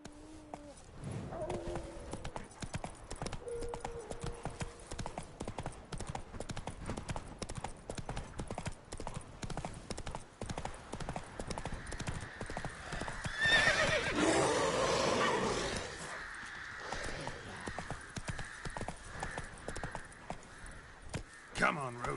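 A horse's hooves clip-clop steadily at a quick pace in The Witcher 3, with a loud neigh in the middle and bits of a voice talking early on.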